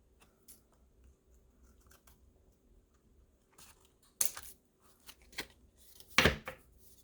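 Scissors snip through mixed media art tags on a 12x12 piece in a few sharp, close cuts, with a handful of separate crisp snips and quiet handling noise between them.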